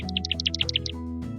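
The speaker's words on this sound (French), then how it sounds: "Mais Dimitri, toi tu es un oiseau et les oiseaux gazouillent." Cartoon bird character chirping in a quick run of about a dozen bright, high tweets over a sustained musical backing, loud and close.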